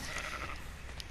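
A baby aberrant Ovis sheep in the survival video game ARK bleats briefly and fairly softly, with a short wavering cry early on over a quiet background.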